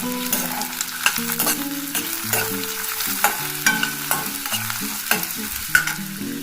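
Sliced onions sautéing in hot oil until golden for a dahi capsicum sabji, with steady sizzling and repeated spatula stirring in the pan, heard under melodic background music.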